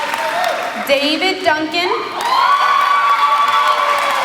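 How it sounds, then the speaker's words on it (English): A school STEM expo audience cheers, whoops and claps for the grand prize winners, a steady crowd roar that swells partway through, with a voice talking over it near the start. "Give them a round of applause."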